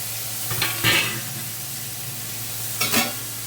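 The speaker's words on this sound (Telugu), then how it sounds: "ఉల్లిపాయలు వేగాయి పప్పులోకి. టమాటో వేస్తున్నాను." Chopped tomatoes tipped into onions frying for dal, giving a steady low sizzle with two short bursts of sputtering and scraping as the pieces hit the hot pan, close by and without talk.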